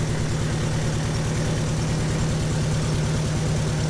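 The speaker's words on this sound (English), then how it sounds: "That's idling really nice, isn't it?" A turbocharged car engine idles smoothly, its low rhythmic throb steady and close throughout, with no talking over it.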